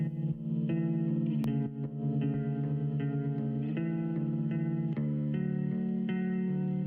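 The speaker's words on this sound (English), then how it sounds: "Yeah, I really like this guitar sound." A clean guitar with its effects switched off plays a gentle melodic line of sustained notes and chord changes at moderate volume, with no voices.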